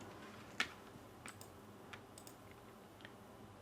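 Computer keyboard keys tap out a short word, sparse soft clicks spaced irregularly over a faint room hum, with one sharper keystroke near the start.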